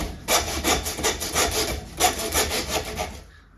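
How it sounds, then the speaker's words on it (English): A hand saw cuts steadily through lamb spine bone during home butchery, with close, rhythmic rasping back-and-forth strokes that pause briefly midway and then resume. "just guide that through, just gently sawing away"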